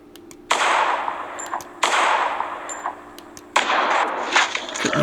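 Three electronic zap shots from a Sharper Image AR Blaster augmented-reality laser toy gun, each a sharp burst with a sustained bright hiss, evenly spaced and close, with no talking.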